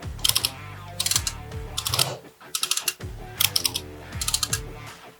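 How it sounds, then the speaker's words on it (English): A Maxibinder chain binder is ratcheted tight in a run of close, crisp clicking bursts, each with a short metallic rattle, repeating in a steady rhythm. "we are now in the action of tightening the Maxibinder"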